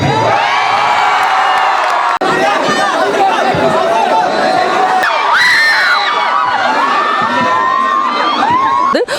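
A large, dense crowd at a college ground cheers, whoops and chatters continuously at close range, with shouts and high-pitched cries rising above the steady roar.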